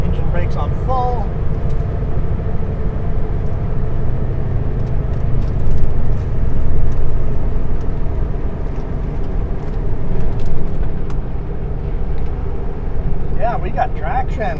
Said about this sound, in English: Engine brakes on full.